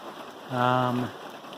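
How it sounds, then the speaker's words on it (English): Rain falling on the Appalachian Trail in Vermont: a steady, soft hiss of drops throughout, briefly overlaid by a short voiced sound in the middle. "since it's still raining out"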